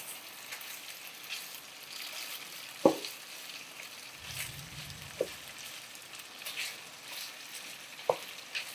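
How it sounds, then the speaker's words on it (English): Italian sausages frying in a pan while being broken up, a quiet steady sizzle punctuated by three sharp knocks of a utensil against the pan and a brief low scrape. "So we can throw in these sausages and start to break these up."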